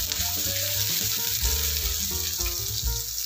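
Chopped green chillies fry in a pan for pasta, giving a steady close sizzle throughout with a few soft stirring scrapes and no voices.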